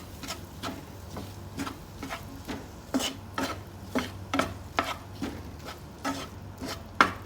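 Steady rhythmic scraping of a utensil stirring chopped boiled egg in a pan for egg masala, repeating about every half second, close and moderately quiet.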